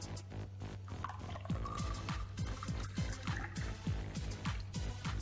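Water is poured into a glass holding fiber powder, a steady close trickle with dripping and bubbling that runs for several seconds over a constant low background hum, with no voices.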